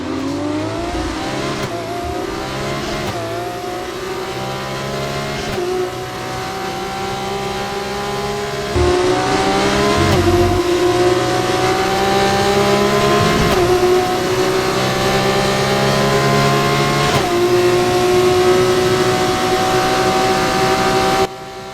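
Formula-style racing cars scream flat out on the final lap of a racing game, engines climbing through rising gear shifts in a loud, continuous howl, with a nearby car slipstreaming close alongside.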